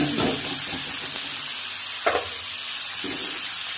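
Bottle gourd and green chillies frying in mustard oil give a steady close sizzle throughout, with a couple of brief stirring scrapes and bumps from the pan.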